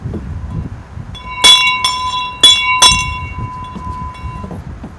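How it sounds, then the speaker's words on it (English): Bell rung during a 9/11 memorial service, three loud evenly spaced strikes, each leaving a clear ringing tone that hangs on after the last one. "we need to ring a bell too"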